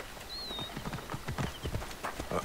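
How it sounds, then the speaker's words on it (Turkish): Horse hooves clip-clop at a steady walking rhythm in Assassin's Creed Origins, set in ancient Egypt, close and distinct over a low ambient bed with a brief high whistle-like tone early on. "Şu atı bir çağır."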